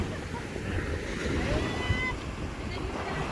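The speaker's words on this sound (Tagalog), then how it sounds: "With matching waves ng dagat." Sea waves washing on a beach in Zambales at sunset, a continuous rushing surf with some wind noise, fairly close and steady throughout.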